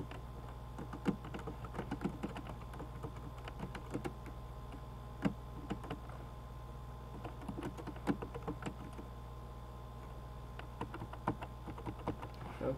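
Someone types on a computer keyboard, a steady run of quick, close clicks and taps with irregular rhythm and occasional louder keystrokes.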